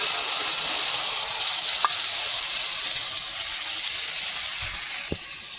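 Water mixed with chili and turmeric poured over frying onions, giving a strong, steady sizzle and hiss with a couple of faint clinks from the pan.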